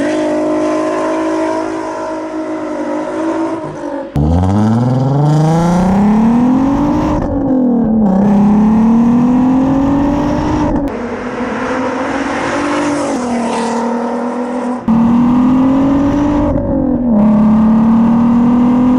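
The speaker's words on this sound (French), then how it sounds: "Bon, vous vous en doutez déjà, Golf 5 R32" Volkswagen Golf 5 R32 with its V6 engine revs loudly and close, several rising pulls climbing in pitch with short breaks between them, alone without talk.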